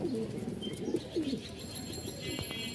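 Pigeons at a Bengali loft keeping birds for sale coo steadily in a low, throaty murmur, with a few chirps and higher calls scattered through, close and continuous with no talk.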